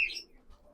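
A pigeon at a loft sale gives one short, sharp chirp close by, which fades at once into near silence with only faint low rustling after it.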